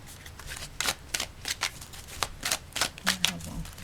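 Angel oracle cards being shuffled by hand, a run of quick crisp riffling flutters and soft slaps in an uneven rhythm, close and fairly quiet, with a voice murmuring in the background.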